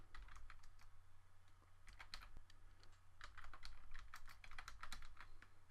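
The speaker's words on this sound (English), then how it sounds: "If I type the command right." Fingers type a command on a computer keyboard while playing modded Minecraft with ComputerCraft, a quiet run of quick, irregular clicky keystrokes with brief pauses and no talk.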